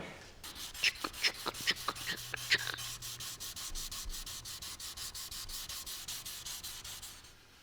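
Steel stiletto blade being hand-sanded with 1500-grit sandpaper to clear etching oxides, a steady run of quick rhythmic back-and-forth rasping strokes, close and fairly loud, with no talking.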